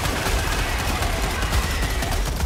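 Mortar and sentry turrets firing in Helldivers 2, a dense continuous barrage of rapid gunfire and heavy thumps, loud and unbroken throughout.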